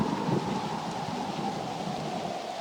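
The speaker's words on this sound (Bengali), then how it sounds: "বৃষ্টির বেগ বাড়তে থাকে" Heavy rain falls with gusting wind in a rural village during a storm, a dense continuous roar with low rumbling underneath and no voices.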